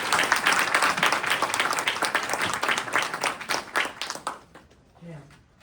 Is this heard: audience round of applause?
yes